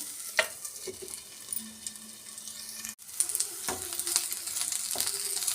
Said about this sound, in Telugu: మూత మూసి పెట్టుకుంటే తొందరగా వేగుతాయి ఈ పచ్చిమిరకాయలు ఉల్లిపాయలు